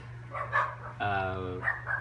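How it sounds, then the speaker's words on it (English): Dogs bark repeatedly nearby, one drawn-out howling bark among shorter yips, with a faint hum underneath. "The dogs are barking again."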